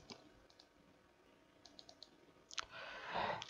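Soft computer mouse clicks and light key taps sound during an airline online check-in, a few scattered quiet clicks followed by a louder burst of clicking and rustle near the end.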